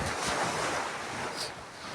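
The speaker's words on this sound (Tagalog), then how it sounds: "Yung dagat." Sea waves wash onto a dark-sand, rocky beach, a steady close surf rush mixed with wind noise on the microphone.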